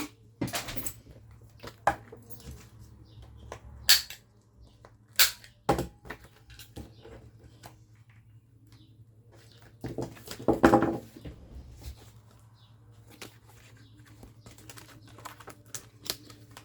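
A corner punch rounds paper corners in a series of sharp, separate clicks and snaps over a low steady hum, with soft rustling and handling between the punches.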